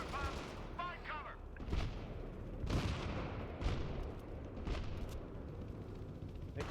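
Mortar fire in the video game Battlefield 3: several deep booms and sharp blasts in a battle, spaced a second or so apart over constant rumble, with brief voices early on.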